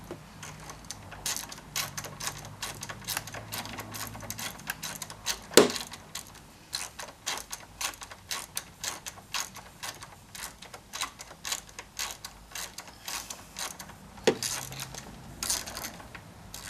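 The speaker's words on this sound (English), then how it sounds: "take an 8mm socket and we're going to loosen this bolt right here" An 8mm socket ratchet loosens the battery ground bolt on a Kawasaki Concours 14 motorcycle, close rapid clicking in steady bursts with a couple of sharper clacks, fairly quiet and no talk.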